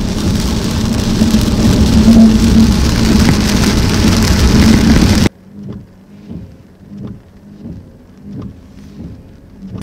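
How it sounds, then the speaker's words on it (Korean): Heavy rain pounds a Hyundai Sonata hybrid driving on a long road trip, a loud dense roar on the car body that cuts out abruptly midway, leaving quieter rhythmic patters and swishes inside the car. "비가 장난 아니게 옵니다."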